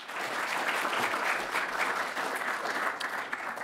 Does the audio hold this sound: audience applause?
yes